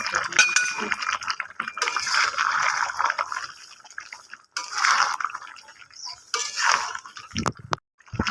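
A lid is set onto a cooking pot of dhaniya chicken with coriander paste, producing a few light metallic clinks among soft bubbling and kitchen handling noises.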